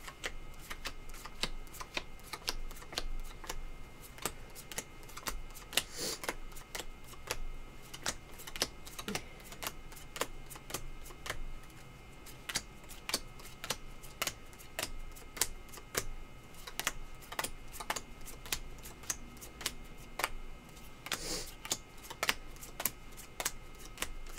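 Playing cards are laid out one by one into seven stacks for a Pai Gow game, giving a steady run of soft, close ticks and taps with no talking.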